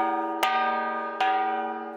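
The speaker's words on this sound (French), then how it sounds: "rythmés au son du gong." A metallic gong is struck twice about three quarters of a second apart, each hit ringing with a long, sustained tone that slowly decays, signalling changes between workshop sessions.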